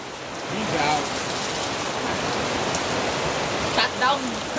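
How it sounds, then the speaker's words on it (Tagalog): Heavy storm rain pours steadily at a floating cottage, a dense continuous hiss with a few voices faintly heard beneath. "sobrang lakas ng ulan"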